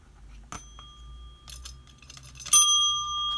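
A small bell ringer is struck twice on a desk beside a baseball card checklist, with sharp metallic dings that ring on with bright sustained tones amid faint rustling.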